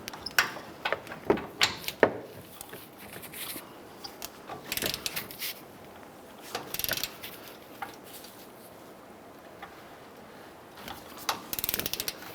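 Quiet ratcheting clicks and metallic clanks from a torque wrench tightening the front upper control arm pivot bolts on a 2011-2018 Ram 1500 to 130 foot-pounds, arriving in short, irregular bursts with quiet gaps.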